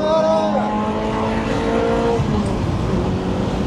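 A Ferrari 355 GTS engine revving up as the car accelerates, its loud, close whine climbing in pitch through the gears over a few seconds.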